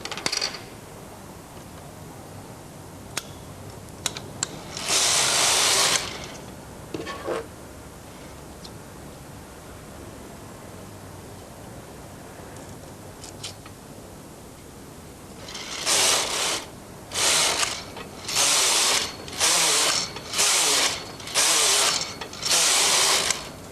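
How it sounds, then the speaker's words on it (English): Brother knitting machine carriage sweeping across waste-yarn rows, loud rasping passes repeating in a quick regular rhythm near the end, after a few earlier single passes and scattered clicks, with no voices. "Then cast on in waste yarn and knit several rows."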